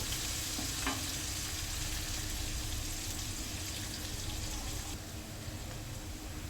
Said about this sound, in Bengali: দিয়ে পেস্টটা ভালো করে ভেজে দেব।